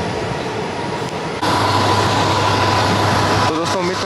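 A train running on track through the Kasara Ghat section between Igatpuri and Kasara in early morning, a steady loud rumble and rattle that grows louder partway through, with a sustained tonal hum and some clatter near the end.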